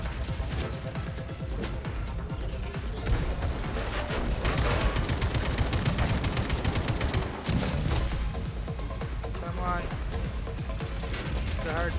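Gunfire from the video game Atomic Heart, during a boss fight against Dewdrop: dense, continuous shooting and crashing impacts fill the whole stretch at a steady, loud level, with a voice faintly present in the mix.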